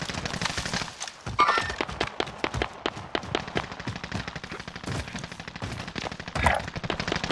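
Automatic rifle fire in the Warzone battle royale game, rapid bursts of close, loud shots rattling almost continuously, with a few short pauses between volleys.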